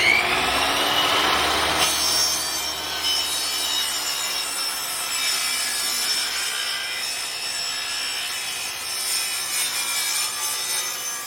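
A power saw cuts a wooden board against a fence for a stair-step plant stand. A loud, close grinding rasp with a high whine carries on steadily for about eleven seconds without speech.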